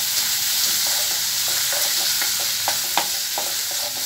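Chopped onion and tomato fry together in oil for a potato palya. A continuous loud sizzle fills the pan, with soft scattered clicks of stirring throughout.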